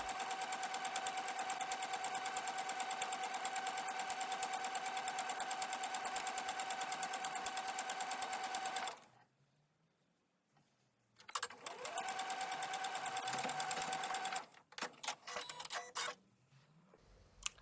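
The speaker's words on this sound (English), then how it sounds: "The next step is to sew the seam again, this time using a 3/8 of an inch seam allowance" Sewing machine running fast while stitching a French seam in fabric, a steady mechanical whir that stops, restarts after a pause, and ends in short stop-start bursts.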